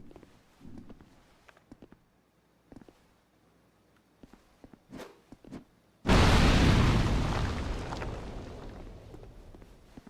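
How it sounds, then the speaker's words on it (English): A firebomb bursts in Dark Souls 2, one sudden loud explosion with a long roaring decay, following quiet footsteps and scattered soft game sounds. "I could just throw a firebomb."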